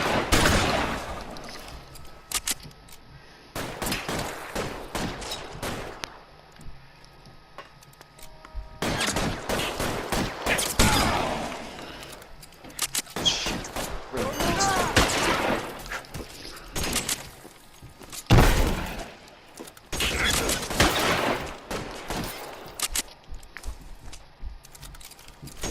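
Shotgun blasts ring out in a Los Angeles shootout in LA Noire, loud and close, fired in irregular bursts with gaps between them, mixed with other gunfire and clattering impacts.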